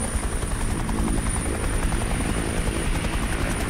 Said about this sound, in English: heard that chopper go.